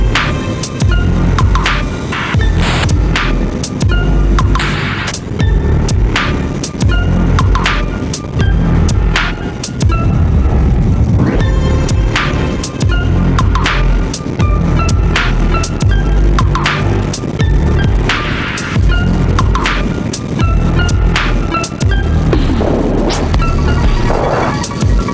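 A KTM Duke motorcycle ridden hard on winding back roads in Kentucky, engine kept revved up in a continuous loud buzzing drone with wind rush and repeated short throttle blips and gear changes, no speech.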